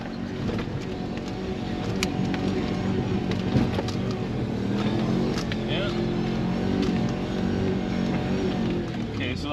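A 1956 truck's engine revving hard at full throttle in first gear, a loud, steady, continuous roar with a dense low rumble that holds for the whole stretch, with brief louder surges along the way.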